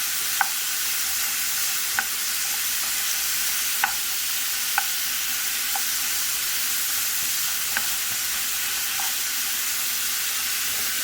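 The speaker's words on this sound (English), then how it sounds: "I'm going to give it some stirs" Stuffed bell peppers with shrimp sizzle steadily in a pan, a constant hiss of frying broken by occasional scraping stirs.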